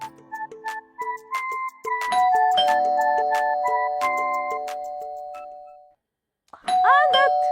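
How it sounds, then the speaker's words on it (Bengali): Electronic doorbell chimes ring repeatedly in quick, overlapping tones, then one long sustained chime that fades out, followed after a short silence by another loud burst of ringing. "কে যে এত কলিং বেল দিতেছে?"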